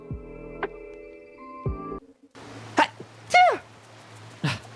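A few short, forceful sneezes burst out one after another, loud and close, after a stretch of electronic tones and faint clicks.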